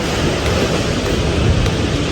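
Dense, steady roar of heavy rain pouring down on a new roof, broadband and constant with no pauses, close and loud.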